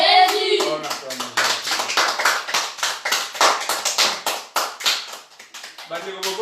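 Congregation at an Easter family service claps rhythmically and steadily for several seconds, with cheering voices and a singer's voice riding over the beat near the start and end.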